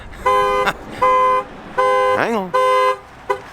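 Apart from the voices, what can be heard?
Range Rover Sport HSE car alarm sounding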